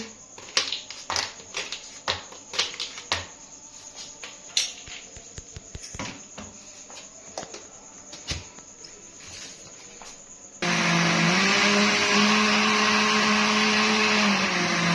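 Cold coffee with ice cubes for about five people: first a stretch of irregular clattering knocks and taps, then an electric blender starts abruptly and whirs loudly and steadily to the end.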